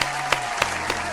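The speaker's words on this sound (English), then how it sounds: "round of applause." A few sharp hand claps land at a steady rhythm, close and fairly loud, like one person starting a round of applause.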